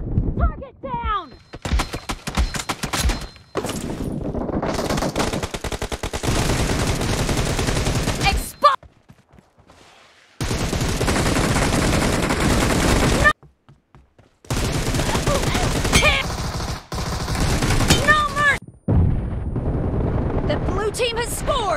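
Gunfire in the mobile shooter BGMI during a team deathmatch: long, loud bursts of rapid automatic shots up close, separated by brief gaps of near-silence.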